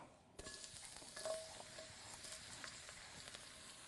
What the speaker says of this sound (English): Gentle sizzle is what you're going for